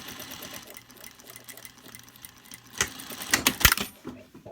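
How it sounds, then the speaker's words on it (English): Sewing machine edge stitching and reverse stitching a fabric mask, a steady close motor whir that builds into louder, busier running near the end, with no talking. "I'm edge stitching it by reverse stitching right here"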